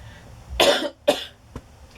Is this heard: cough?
yes